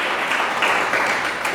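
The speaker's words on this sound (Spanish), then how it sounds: "Dale otro aplauso a Dios por eso." A church congregation applauding, a short burst of dense clapping filling the room evenly before fading.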